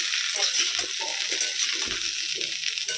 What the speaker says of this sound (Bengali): মটরশুঁটি দিয়ে ভাজতে থাকি